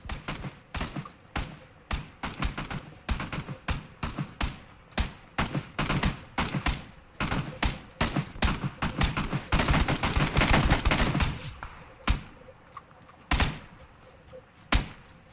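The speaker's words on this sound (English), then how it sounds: "sniper shots from the east" Gunfire in a video game comes as a long run of sharp, loud cracks, at times rapid and bunched together, then thinning to a few spaced shots near the end.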